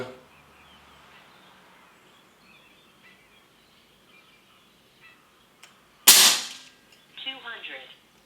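A Snowpeak AP-1000 air rifle fires a single GSB pellet, one sharp loud crack after a quiet stretch, followed by a brief rattling ring from the target or gun mechanism.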